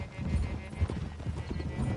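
Horse hooves clip-clop at a steady trot on a dirt trail in the Western game Red Dead Redemption 2, close and fairly loud, mixed with low rumbling ambience.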